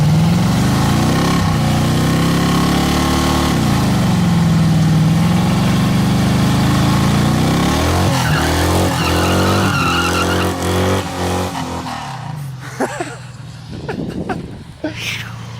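A sleeper Chevrolet Cavalier project car does a burnout, its engine revving hard and loud with rising and falling pitch while tires skid and squeal for about twelve seconds, then the noise cuts off into scattered quieter sounds.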